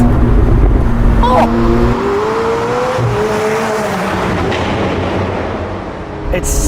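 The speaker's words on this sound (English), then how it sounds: "Listen to the pops and bangs." A high-revving McLaren 765LT Spider engine roars close by with sharp pops and bangs from the exhaust, and a voice speaks over the noise.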